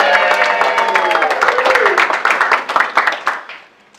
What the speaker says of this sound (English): Big cheer for Jasmine